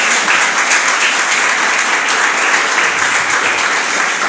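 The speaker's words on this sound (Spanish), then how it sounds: "Dale un aplauso al Señor" A church congregation applauds, steady and loud clapping from many hands filling the whole stretch evenly, with no gaps and no clear voice on top.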